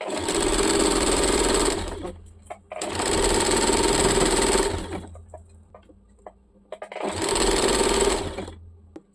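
Sewing machine stitching a churidar in three long continuous runs separated by short pauses, loud and close with steady whirring.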